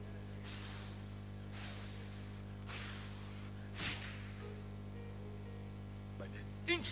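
A voice makes a series of hissing spray sounds, imitating insect spray being sprayed inside a cupboard. There are four long bursts, spaced at regular intervals, set over a steady electrical hum and ending in brief speech.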